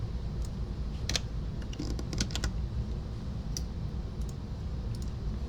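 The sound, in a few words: typing on a computer keyboard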